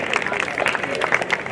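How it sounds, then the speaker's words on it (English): An audience at a high school semester awards ceremony claps in a brief, busy patter of many hands, with voices mixed in underneath. "So give them a round of applause."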